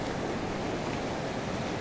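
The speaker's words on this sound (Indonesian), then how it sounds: "menikmati ombak laut di Pantai Siraumbu" Sea surf rolling onto Sirombu beach, a steady broadband wash of breaking waves with some wind, continuous and moderately loud with no voices.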